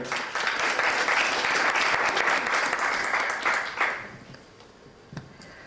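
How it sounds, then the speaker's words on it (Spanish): Audience applause for a panelist at a talk on Aymara economic transformations, a dense, sustained round of clapping from a seated crowd that fades out after about four seconds, leaving a few stray claps. "Quisiéramos dar un fuerte aplauso a la hermana, por favor."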